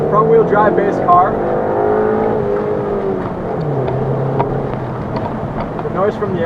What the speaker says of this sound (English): The noise from the engine is pretty loud.